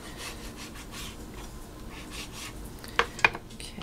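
A knife, not well suited to the job, cutting fish into pieces for fish and chips: faint, repeated rasping strokes against a board, then two sharp clicks near the end.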